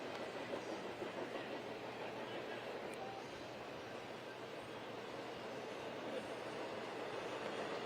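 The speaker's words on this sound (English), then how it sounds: "You see the choo-choo train going by." A train rumbles past near a high school baseball game, a steady broadband roar with faint clickety-clack running throughout, under low crowd and field noise.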